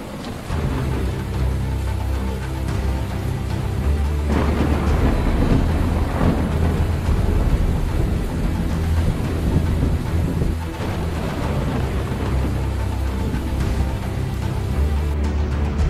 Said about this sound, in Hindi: बागेश्वर जनपद में पिछले 4 दिनों से जबरदस्त बारिश हो रही है।